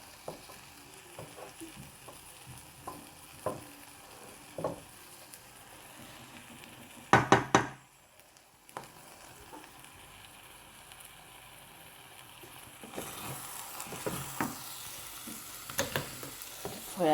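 Corned beef meat pie sauce frying in a pan, a soft continuous sizzle with scattered stirring scrapes and clinks, a louder burst of clatter midway and the sizzle swelling toward the end.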